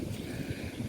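Strong, gusty wind buffets the microphone outdoors on open land at a property boundary, a steady low rumble with rushing noise and no other clear sounds.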